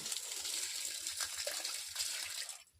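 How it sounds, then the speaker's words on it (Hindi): Used, dirty water poured onto plants in a village gives a steady gushing splash close by, running continuously for a few seconds before tapering off. "अच्छा पानी नहीं डालती, गंदा पानी डालती हूँ।"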